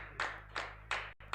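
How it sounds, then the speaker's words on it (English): A few sparse, distinct hand claps from an audience at a health symposium, about four in a slow uneven rhythm, fairly faint against a low background hum. "So let's clap for them as they come to the stage."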